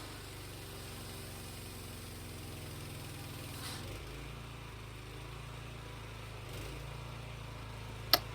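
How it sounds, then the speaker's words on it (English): A small pressure washer engine runs at a steady, rough idle, low and continuous with a slight dip in tone midway and a brief click near the end. "that's too much because it's causing the engine to bog down"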